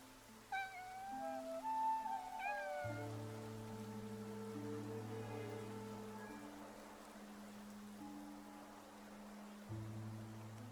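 A video game cat from Infinity Nikki meows a few times early on, faint against a bed of soft rain and a steady low musical drone.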